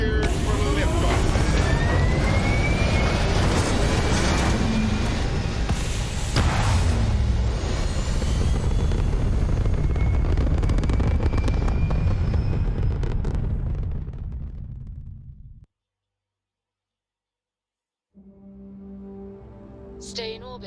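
A spaceship lifts off in the space game Starfield with a loud, sustained engine roar and rumble that builds for about fifteen seconds, cuts to brief silence, then settles into a quieter hum.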